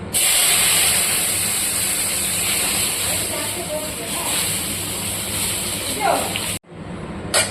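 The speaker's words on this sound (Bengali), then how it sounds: "তারপরে দেখো এই যে ডালটা ফোড়ন দিয়ে দিলাম।" A loud, continuous sizzle and hiss as hot tempering hits sour lentil dal, spitting steadily close-up for several seconds before a brief cut, then the sizzle resumes.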